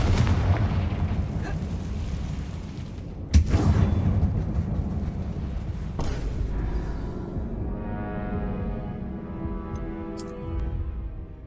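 In the Hogwarts Legacy video game, a Confringo fire spell bursts with a loud, sharp boom, followed by rumbling and further blasts fading into ringing magical tones.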